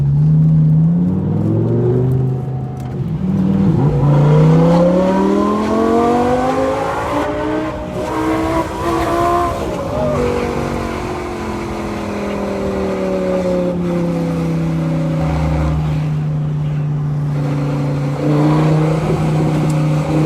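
An Audi R8 V10 exhaust roars through repeated revs, the engine climbing and falling in long loud sweeps while idling and blipping close up, with no talking.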